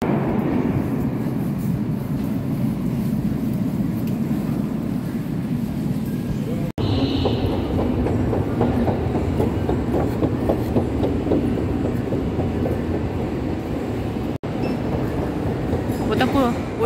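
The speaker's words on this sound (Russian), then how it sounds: "Поезд." A St. Petersburg metro train at Vladimirskaya station rumbles loudly and steadily, with rhythmic wheel clatter building partway through and a voice briefly heard over the noise.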